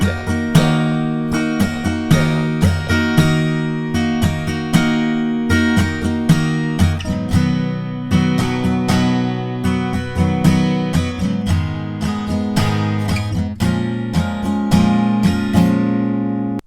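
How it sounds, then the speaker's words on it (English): Acoustic guitar strumming the verse chords of a song, steady down-and-up strokes in a repeating pattern, close and loud with bright ringing chords and no voices. "So in total, the strummed verse will sound like this."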